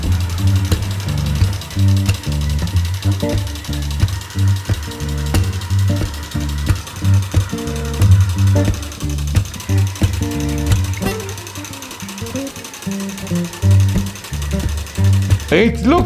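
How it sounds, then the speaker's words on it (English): A big 12 volt DC motor run at only 5 volts, spinning slower and giving a steady, loud, rhythmic mechanical whirring and chattering that continues throughout, with no talking. "I'm going to connect it at only 5 volts, so it will spin slower, but it's just what we need."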